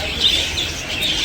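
Pet birds at a market give a few thin, high chirps over a dull murmur of background noise, brief and moderately near.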